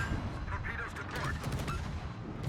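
Warship guns fire in World of Warships from the destroyer Vampire II, a continuous rumble of close, heavy shots with crackling impacts, and a voice speaking over the battle.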